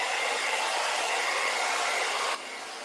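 A hair dryer blows on wet paint on a wooden farmhouse door hanger, a steady loud whooshing whir that drops to a lower setting near the end, with no voices.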